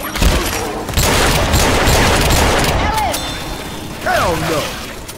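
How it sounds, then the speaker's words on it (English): Automatic gunfire rattles through a Left 4 Dead 2 police department level, dense and close, with crew members talking over the shooting and short electronic effects near the end. "Machine gun."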